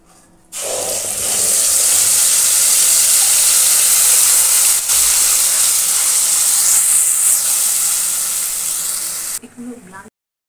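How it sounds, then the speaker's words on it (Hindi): Spinach gravy for palak paneer hits hot oil in a pan with a sudden loud, broad hiss that starts abruptly, then sizzles steadily for about nine seconds before cutting off. "ये देखिए हमारा तेल गर्म हो चुका है तो यहाँ पे अब मैं सबसे पहले जो हमने ग्रेवी तैयार की है वो डालेंगे"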